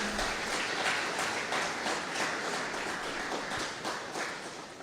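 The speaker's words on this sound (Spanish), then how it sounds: "Un aplauso para Fernando." A crowd applauds steadily, many hands clapping in a dense, even patter that carries on without pause and fades slightly toward the end.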